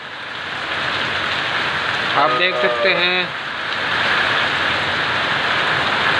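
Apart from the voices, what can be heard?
heavy rain falling on crops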